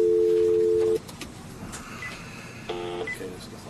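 A desk telephone's dial tone cuts off, then a few soft keypad beeps are punched in amid faint room noise and handling clatter, with no speech.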